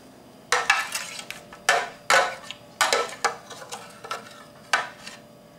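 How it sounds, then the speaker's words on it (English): A metal spoon scrapes and knocks around inside a bowl, getting the last bits out while making an omelette; a run of sharp, close clinks and scrapes arrives in uneven bursts with brief pauses between them. "I'm just going to use a spoon to get the last bits out."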